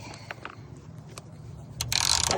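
A ratchet loosening the battery terminal on a 2019 GMC Acadia Denali 2WD: a few quick, close clicking pawl ticks, then a louder burst of rapid ratcheting at the end.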